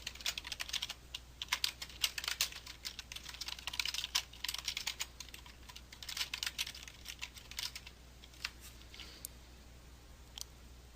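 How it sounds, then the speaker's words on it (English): Fast typing on a computer keyboard, close and fairly quiet, with a steady stream of crisp key clicks in uneven bursts that thin out toward the end, with no talking. "I'll type in a new password"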